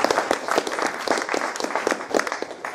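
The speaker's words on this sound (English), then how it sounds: "See, that does deserve a round of applause." A short, sparse round of clapping from a small group, individual claps distinct and fairly close, lasting only a few seconds.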